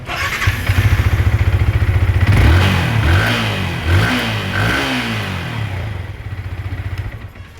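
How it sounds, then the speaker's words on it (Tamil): A Yamaha R15 BS6 motorcycle with a newly replaced ignition coil cranks with a rapid starter whir, catches and revs loudly up and down several times, then settles into a lumpy idle, close by with no talking. "இப்போ உங்களுக்கு ஸ்டார்ட் பண்ணி காட்டுறேன்."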